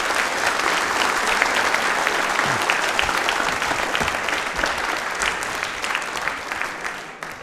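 A studio audience at a quiz programme for Dr. Bhimrao Ambedkar Jayanti breaks into loud, sustained applause for a student's partly correct answer, a thick even roar of clapping that fades slightly at the end.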